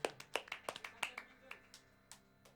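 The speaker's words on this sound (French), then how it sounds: "on applaudit tous Alzeda" A few people clap for a crew member during a video rehearsal run-through, sparse and quiet, around a dozen uneven claps fading out over a couple of seconds.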